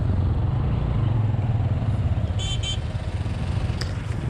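A motorcycle loaded with luggage is reversed on a mountain road trip, its engine running steadily close by with a continuous low rumble, some light clatter and a brief high tone partway through.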